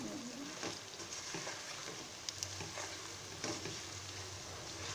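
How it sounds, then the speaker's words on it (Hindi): Biryani masala spices fry in a pan with a faint, steady sizzle and occasional soft scrapes and taps of stirring, heard close but at low volume, with no voices. "एक से दो मिनट में ये सारे मसाले को भून लूंगी ताकि मसाले की जो कच्चापन की स्मेल होती है वो ख़त्म हो जाए जी।"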